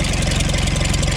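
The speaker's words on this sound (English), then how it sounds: "Idling decent, not the best." An old hay equipment engine idles close up, a loud, steady, rhythmic chugging with an even low thump and no other sounds.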